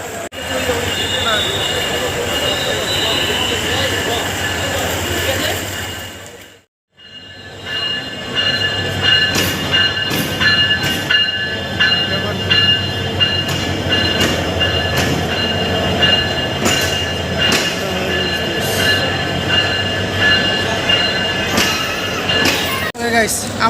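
A passenger train that has just come in from Chittagong rumbles close by at a railway platform, with wheel squeal and clattering, loud and continuous apart from a brief gap, while voices carry in the background.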